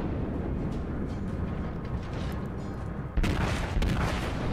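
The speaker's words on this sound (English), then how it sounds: "I'm gonna shoot at him" Naval gunfire from warship batteries in World of Warships, a low continuous rumble that breaks into a heavier booming burst about three seconds in, loud and without speech.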